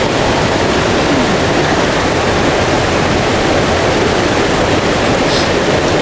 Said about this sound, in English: So I've got this nice flow of water, just kind of bottom left hand of the frame, and it goes through the frame, meets the main part of the river